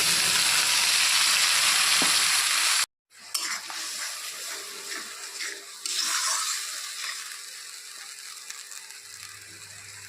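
Masala tipped into a frying pan for a potato aloo dum and stirred, a steady close sizzle with scraping strokes, cut by a brief silent gap before the frying and stirring resume.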